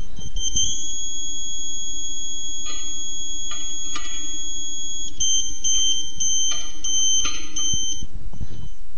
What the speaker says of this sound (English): Change direction until you hear the continuous tone, and keep going until the beeper tone drops again.